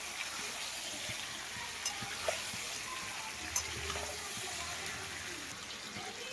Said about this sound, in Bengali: বেগুন দেওয়ার পরেও কিন্তু 1 মিনিট মতো একটু ভালো করে সমস্ত কিছু নাড়িয়ে চাড়িয়ে কষিয়ে নিতে হবে।